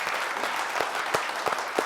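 A television studio audience on a Tamil entertainment show applauds to welcome a guest, a brief burst of dense, steady clapping at moderate volume.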